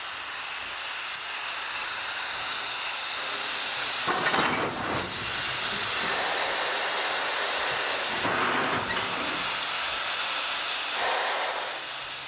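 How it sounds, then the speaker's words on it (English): Western Maryland 734 steam locomotive couples up to a caboose amid a constant broad steam hiss, with two heavier clanking surges as the cars meet. "(734) couples up to the caboose for the return trip."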